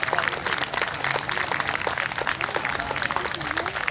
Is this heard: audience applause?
yes